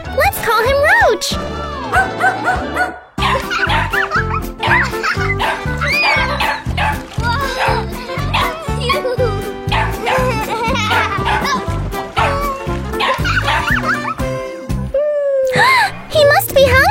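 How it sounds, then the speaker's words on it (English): A dog barks and yips repeatedly in a video game, over steady game music, while a person talks throughout. "Oh! Wow, it's a dog. Aw, good boy."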